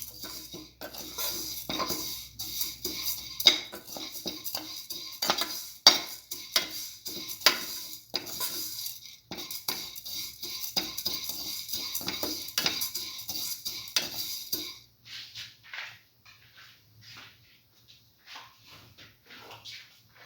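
Vermicelli pasta frying in a pan while being stirred, with steady scraping and clinking of a utensil against the pan and a soft sizzle, close and continuous for about fifteen seconds before fading to quieter scrapes.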